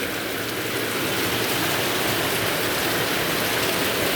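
Steady rain pours down in a continuous, even broadband wash that stays loud and unbroken throughout, with no voices present.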